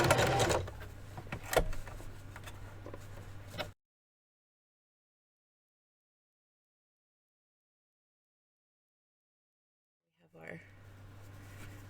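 A sewing machine runs a straight quarter-inch top stitch on a Barbie dress bodice, a close mechanical whir heard briefly at the start with talking, then silence before it starts up again at the end.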